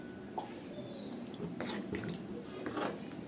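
Plain water poured into a pot of simmering tamarind curry with taro root, a faint splashing trickle with a few brief sloshes and clinks.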